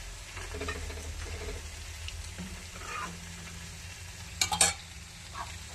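A paneer and peas curry cooks quietly in a pan with a soft, low sizzle and occasional stirring scrapes, plus a brief sharper clatter near the end.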